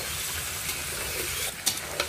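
Potatoes stirred and fried with spices in oil for a potato dum, giving a steady close sizzle with a few sharp scraping clicks of the spoon near the end.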